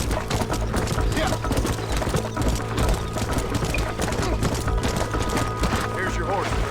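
Horse hooves clip-clop steadily in the Red Dead Redemption video game, a busy rhythmic clatter under a dense layer of game music and ambience, with a voice speaking over it.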